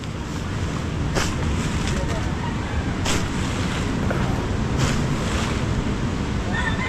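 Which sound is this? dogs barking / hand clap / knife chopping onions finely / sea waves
sea waves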